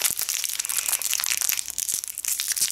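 Thin plastic candy packet of mango sweets crinkles and crackles close up as it is torn open with a fingernail, with rapid sharp tearing and crunching sounds throughout and no talking.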